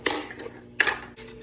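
A fork is picked up and handled in a kitchen beside a 700-watt microwave while coffee is being prepared, giving two or three short, bright metallic clinks close by, with a quiet moment between them.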